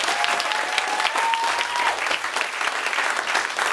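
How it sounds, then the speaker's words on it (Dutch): A crowd at the grand opening of a youth studio bursts into loud, dense, continuous applause, close and sustained for several seconds, with a faint whistle-like tone briefly audible over it. "Dus alvast even met z'n allen een applaus voor alles wat hier is gebeurd."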